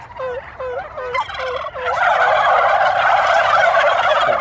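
A person imitates a female turkey's call with several short yelps, then real turkeys answer with a loud, sustained burst of gobbling close by.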